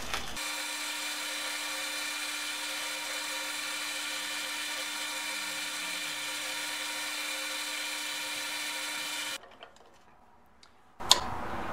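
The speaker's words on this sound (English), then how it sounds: "let's grab some more friction polish and apply some more." A wood lathe spins a turned bowl as friction polish is applied, giving a steady high motor whine with faint rubbing that runs for about nine seconds before cutting off, then a short knock at the end.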